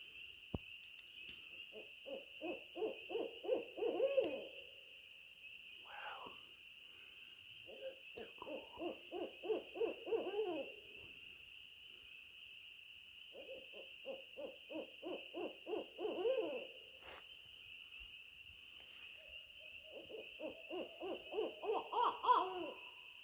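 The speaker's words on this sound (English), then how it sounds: "We've got an owl right outside of our camp." An owl hoots in repeated rhythmic series of low, bouncing notes that build and fade, four bouts spread out, outside a canoe camping site in the Adirondacks on a spring night, with a constant high insect trill behind it.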